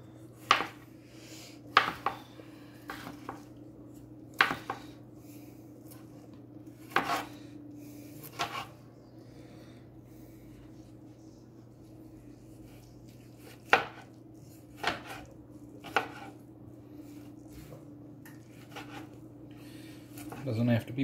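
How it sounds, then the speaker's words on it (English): Linguica sausage being chopped with a knife on a cutting board, a dozen or so sharp, irregular thuds spread across the clip over a steady low kitchen hum. "Chop it up."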